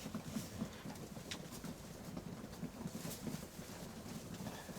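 Soft coos of pigeons feeding and faint bird calls rise and fall at a low level, with light rustling and a quiet outdoor background.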